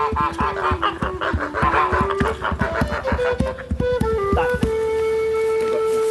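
Geese on a working farm honk in a rapid, ragged series of short, nasal calls, several birds overlapping close by, with no talk.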